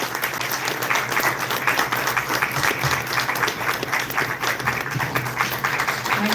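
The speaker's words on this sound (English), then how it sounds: "So please give them a round of applause as we start the ceremony." A standing audience applauds police officers at the start of a ceremony, a continuous, fairly loud wash of clapping with a faint crowd murmur underneath and no clear talk.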